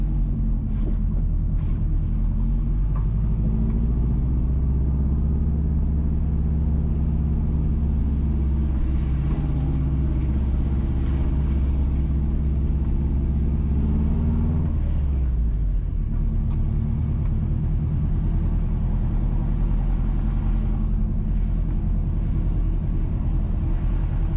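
A car drives along Parks Road toward Rock Hall Road at Allman Hill, St Andrew, Jamaica, its steady low engine rumble and road noise continuous throughout, with a brief shift in tone midway.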